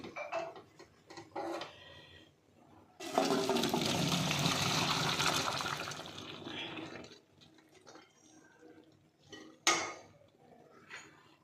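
Cooked avarekai beans and their water poured from a pot into a bowl, a gushing splash lasting a few seconds, framed by clinks and scrapes of the vessels.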